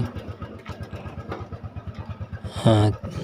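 A Honda Super Cub motorcycle with a sidecar being test ridden, its small engine chugging in a steady rapid pulse close by, with a brief louder higher-pitched rise near the end.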